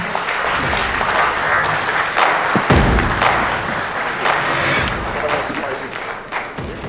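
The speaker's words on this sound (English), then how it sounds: "A huge round of applause for the maestro of the mind" Applause and cheering from a large conference audience in a hall, a dense continuous roar of clapping with occasional thuds, loud and steady throughout.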